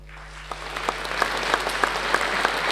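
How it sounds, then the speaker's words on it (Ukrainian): An audience at a concert where stage stars honour sports stars claps steadily, and the applause builds from sparse claps into a full, dense ovation, close and loud, over a constant low hum. "А сьогодні вам море оплесків"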